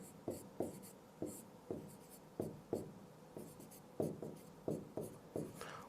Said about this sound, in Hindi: मैं नाम लिखता हूं तो उनका